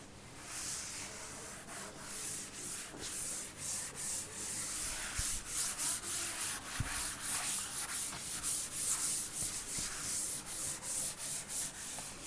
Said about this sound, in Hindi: फिर मैं इसको रब कर देता हूँ